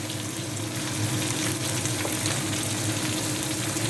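Chopped tomato and onion frying in a pan for masala dosa filling, giving a steady, close, continuous sizzle with faint stirring that holds evenly throughout.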